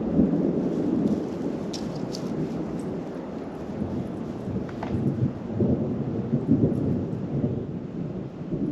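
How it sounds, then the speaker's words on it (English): Low, continuous rumble of thunder rolling far off during a night storm at an abandoned campground, with steady rain hiss underneath throughout and no speech. "The sound of thunder rolling in the distance."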